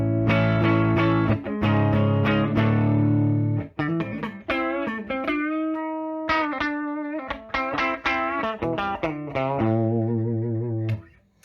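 An electric guitar plays through a budget Tone Americana Evil Robot tube amp with a clean, warm, Fender-style tone, strumming chords and picking notes with no voices.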